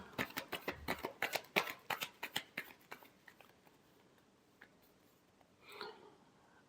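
Tarot cards being shuffled by hand: a quick run of crisp riffling snaps, close and fairly quiet, thinning into a few scattered taps and a soft slide at the end.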